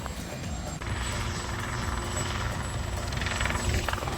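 A helicopter flies close by with a steady, loud rotor and engine roar, a dense rhythmic chop throughout, with no talk over it.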